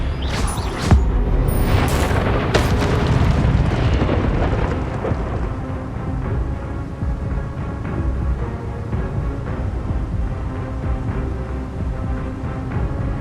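Spell casting effects from the Hogwarts Legacy video game: a dense roar of magical blasts, crackling bursts and booming impacts, loud at first and then settling into a sustained rumbling wash, with no talking.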